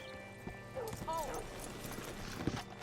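Horse hooves clip-clop at an easy pace in the Red Dead Redemption 2 video game. A horse whinnies briefly in the middle, with soft ambient background and a voice speaking around it.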